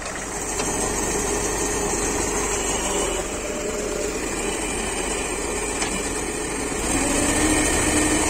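A mini JCB backhoe loader attachment on a tractor runs with a steady, droning engine rumble and mechanical vibration, continuous and fairly close, swelling slightly louder near the end.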